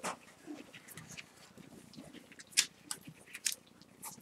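Young weaning puppies climbing over one another, with faint scrabbling, panting and small whimpers scattered through, plus a few sharp clicks, fairly quiet and close.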